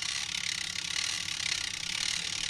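A bicycle cassette freewheel ratchets with a steady, continuous fast clicking as it spins while being scrubbed with a washing-up brush, close and fairly loud with no talking.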